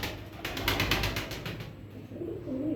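A breeder pair of Lal Sherazi double shade pigeons gives soft, low cooing at close range, faint and repeated against a quiet room.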